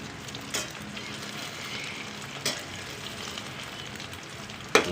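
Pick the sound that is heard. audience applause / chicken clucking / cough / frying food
frying food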